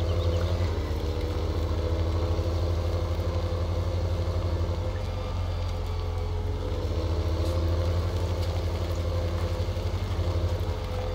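Steady engine drone from a tractor in a driving game, with a constant low idle-like rumble and faint mechanical tones that hold level throughout.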